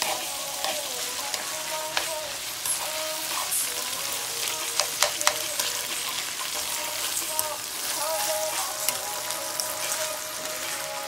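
Rice being stirred into sizzling hamburger meat and vegetables in a pan, a loud steady frying crackle with scattered scraping clicks of the utensil, close up.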